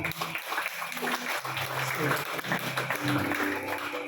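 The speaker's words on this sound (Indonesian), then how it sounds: "Kita berikan tepuk tangan buat Tuhan kita" A congregation at a church service for a child's first birthday claps steadily, a dense wash of applause that holds at an even level throughout, with no voices standing out.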